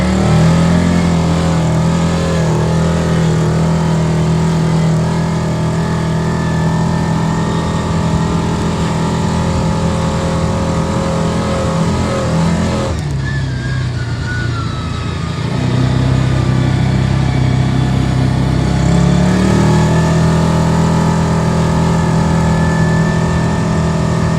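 A Hisun UTV engine drones steadily in two-wheel drive, a loud close mid-pitched hum that dips briefly as the throttle eases, then climbs back up to a sustained drive.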